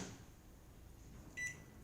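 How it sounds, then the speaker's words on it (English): A microwave oven hums quietly, then gives a short high beep near the end. "put it back in the microwave for another minute."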